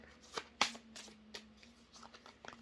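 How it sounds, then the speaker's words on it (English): A deck of oracle cards is shuffled by hand, giving quiet, scattered papery flicks and riffles in short irregular bursts over a faint steady hum. "I'm just going to shuffle them around a bit and then probably end up pulling from the top of the deck."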